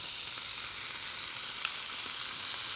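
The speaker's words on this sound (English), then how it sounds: "we're ready to add our butter to the pan" Butter sizzles in a hot pan alongside top sirloin steak, a dense, steady, fairly loud frying hiss with one tiny pop and no speech.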